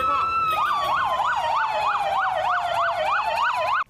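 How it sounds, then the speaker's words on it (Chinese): An ambulance siren wails in a rapid rising-and-falling pattern, loud and continuous, as it travels along a national highway with police cars escorting behind, over a low rumble of road traffic. "救护车对台南省大病院出发，后壁搁对2台国道的警察车"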